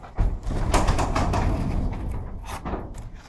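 A spring-loaded residential garage door, its opener broken, is pulled down by hand, giving a close, sustained rolling rumble and rattle that starts abruptly and eases off after about three seconds.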